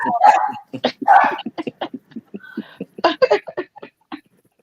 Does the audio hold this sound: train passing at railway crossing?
no